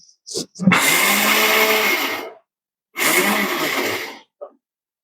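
A kitchen mixer grinder whirs loudly while grinding peas, running in two long bursts of steady high-pitched grinding with a short pause between them and brief clicks before and after.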